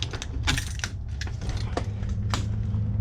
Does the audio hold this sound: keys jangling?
yes